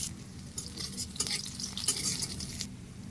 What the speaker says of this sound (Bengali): কিছু পেঁয়াজ কুচি দিয়ে দিলাম।